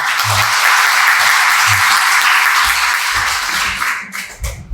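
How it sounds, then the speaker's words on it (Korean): A church congregation at a joint Friday prayer gathering claps in thanks, a loud continuous burst of many hands that fades near the end, with a few low thumps underneath. "모든 것 주님께 영광 올려드리면서 또 찬양단 또 함께 감사의 박수 할까요?"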